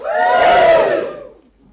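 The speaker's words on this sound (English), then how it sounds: "Give us a cheer." A comedy club crowd lets out one loud, brief roar of cheering and shouting that swells, holds for about a second and then drops away into quiet.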